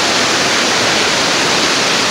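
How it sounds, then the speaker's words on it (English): Nantahala River water running steadily over rocks, a constant loud rushing wash close by with no talk. "You hear that water running?"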